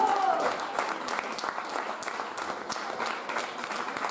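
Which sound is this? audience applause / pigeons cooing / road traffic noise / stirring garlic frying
audience applause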